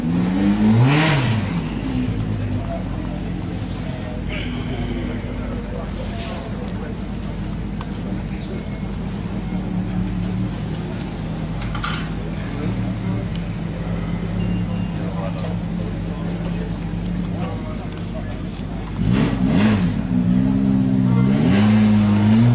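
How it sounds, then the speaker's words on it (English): A Ford GT40 race car engine fires up and revs at a motorsport pageant, a loud rumbling idle with sharp rising blips near the start and again at the end, with people talking nearby. "I'll see a car firing up over there. GT40."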